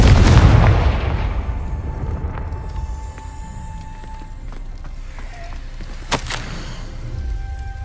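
Confringo blasting spell in Hogwarts Legacy: a loud, broad explosive burst at the start that decays over about a second into a low rumbling tail, followed by quieter game ambience with a sharp crack near the end.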